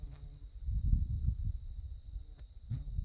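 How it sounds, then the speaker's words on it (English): Steady high insect chirring from crickets and heat bugs fills the night air deep in the woods near a river, with low rumbling wind or handling noise underneath and a couple of faint clicks. "all I can hear are crickets and heat bugs"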